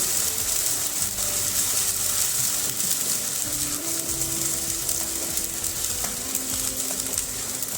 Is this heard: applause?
no